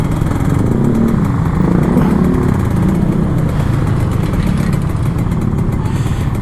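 A two-stroke Kawasaki Ninja RR 150 motorcycle idles in Jakarta traffic, its close, loud, buzzy engine running steadily throughout, with other traffic noise around it.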